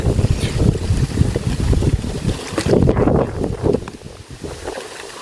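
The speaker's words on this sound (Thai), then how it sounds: "ลมพัดสวยมากเลย" Outdoor wind gusts steadily across the microphone in a vegetable garden, a loud rushing buffet that swells and eases over several seconds with rustling underneath.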